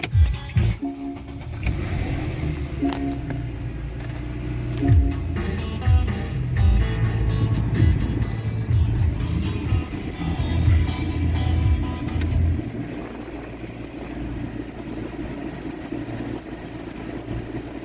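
A Porsche Panamera's engine cranks and fires up after the key is turned, then settles into a steady, fairly loud close-up rumble that runs on for several seconds before easing off.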